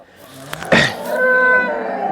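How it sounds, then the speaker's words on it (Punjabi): A pregnant heifer lets out a long, loud moo close by, following a brief thump. "ਇਹ ਆ ਗਈ ਗੱਬਣ ਵੱਛੀ ਸੰਧੂ ਸਾਹਿਬ"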